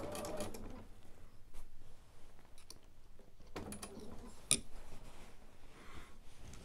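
Sewing machine with dual feed stitching binding onto a quilt, a steady soft mechanical whir with faint clicks and a sharper tick partway through, quiet and close with no talk.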